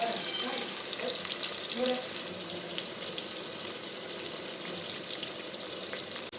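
Three medium-sized onions frying in a pan for chicken biryani, a continuous hissing sizzle with a few faint clinks of stirring, and a voice speaking briefly under the noise.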